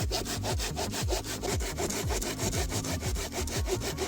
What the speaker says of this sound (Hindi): दोनों हाथों से आरी पकड़कर ये प्रोसेस हैरतअंगेज तरीके से तेज हो गया